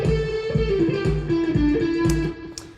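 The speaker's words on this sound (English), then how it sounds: "So it's just a drum beat and a guitar riff that I played over the top." A recorded drum loop with a guitar riff over it: evenly spaced kick and snare hits run under a repeating guitar line at a steady tempo, played back as a music track with no talking.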